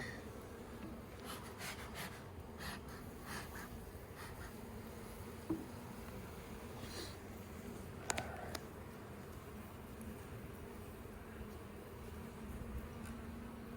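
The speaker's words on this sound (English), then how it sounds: "this is a full frame of bees, just about" A faint, steady buzz of many honey bees humming together on a hive frame during an inspection, with a few soft clicks and taps.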